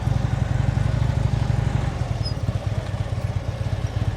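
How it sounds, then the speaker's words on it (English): A motorcycle engine lugs at very low revs, close to stalling during slow-speed riding practice, giving a steady, uneven low chugging pulse that stays close and fairly loud. "you got to listen to your engine. You hear it going, glug, glug, glug, glug, glug, glug. It's too low"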